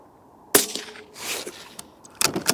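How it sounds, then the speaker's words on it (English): A Savage B17 Precision Lite rifle fires lead-free ammunition: a sharp crack, then a short burst of noise and a second sharp report near the end, loud and close, with no talk. "let's see how these lead-free shoot"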